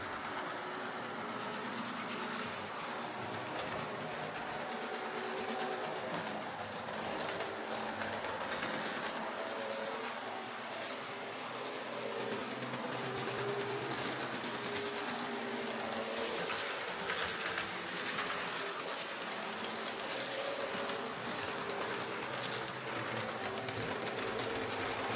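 Model train running along track with a noisy motor, a continuous whirring, rattling mechanical buzz heard close up for the whole stretch with no talking.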